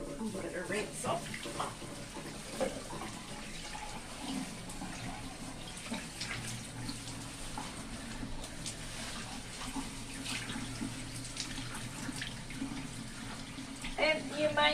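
Tap water runs steadily over partially immersion-dyed fabric being rinsed at a sink, a continuous close splashing rush with small shifts as the cloth is handled.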